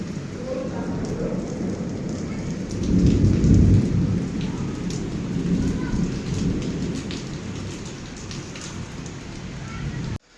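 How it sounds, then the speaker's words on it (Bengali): Heavy rain pours steadily outside during a thunderstorm, a dense, loud hiss of drops hitting surfaces with a swell of rumbling thunder midway before easing back to the constant downpour. "বাইরে প্রচণ্ড বৃষ্টি হচ্ছে।"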